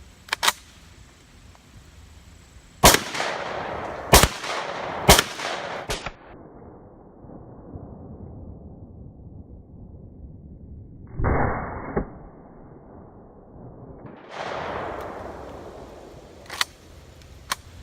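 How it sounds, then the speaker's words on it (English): Shotgun loaded with double aught buckshot fired at a target outdoors: several sharp, loud blasts in an uneven sequence, each trailing off with an echo, then quieter gaps and a few more distant reports. "I'm going to put 5 rounds of double aught buck into it from here"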